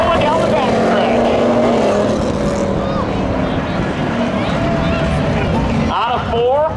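A 1985 Chevy Corvette and a 1991 Chevy Camaro roar in a spectator drag race at Seekonk Speedway's Labor Day thrill show, their loud engine drone sustained under continuous announcer commentary.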